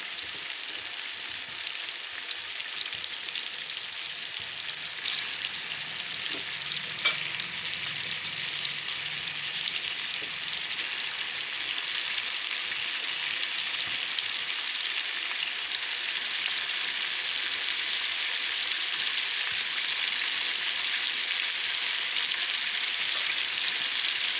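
Prawns frying in a pan for prawn gongura curry, a continuous, even sizzle holding steady and fairly loud throughout with no talking.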